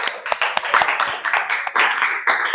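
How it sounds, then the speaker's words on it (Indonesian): A classroom group clapping for group 1 during a lesson, a small cluster of sharp, uneven claps close by, loose and irregular rather than a full crowd. "kita tepuk tangan untuk kelompok 1."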